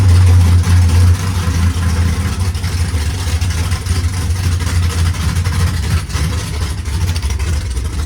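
A 1981 Chevy El Camino G-body engine at idle, a loud steady low rumble close by, louder for the first second and then settling into an even drone with no talk.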